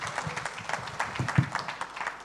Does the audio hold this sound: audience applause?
yes